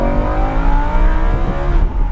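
A Lamborghini Huracan supercar accelerates hard on a track, heard from inside the cabin as a loud, close engine roar with rising pitch that stays continuous throughout.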